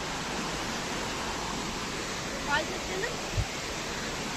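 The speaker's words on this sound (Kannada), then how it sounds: "ಇವಾಗ ಇನ್ನೊಂದು ಸರ್ತಿ ಮಾನ್ಸೂನಲ್ಲಿ ಅಂತ ಸೌಂಡ್ ಕೇಳಿಸ್ತಾ ಇದೆ ಫಾಲ್ಸಿಂದು" Steady broadband roar of Bhimeshwara waterfall swollen by monsoon rain, a constant dense wash of falling water heard close and loud, with a couple of faint brief sounds rising over it.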